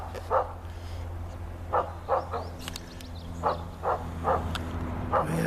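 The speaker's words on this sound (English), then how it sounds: "sounds like my dog scared up a bear, minding its own business" A farm dog barks at a bear, distant repeated barks in a loose rhythm over a steady low hum of rural background noise.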